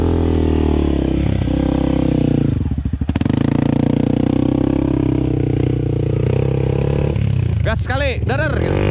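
Motorcycle engine revving in bursts as it climbs out of a ravine, a close, loud steady drone with rising throttle surges near the end, while people shout instructions over it.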